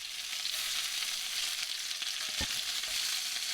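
Capsicum frying in a hot pan, a steady bright sizzle close to the mic with a brief clack of a utensil partway through, no voices.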